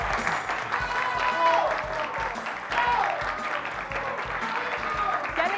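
A studio audience at a televised contest applauds its female finalists with steady, full clapping throughout, while a voice carries on faintly beneath it.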